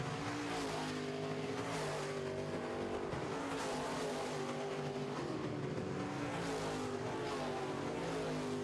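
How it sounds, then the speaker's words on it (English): Midwest Modified race cars roar through a heat race, their engines rising and falling in overlapping revving sweeps. The sound stays loud and continuous throughout, and no one speaks. "Grant Hall continues to dominate your Castro Midwest Modified heat race"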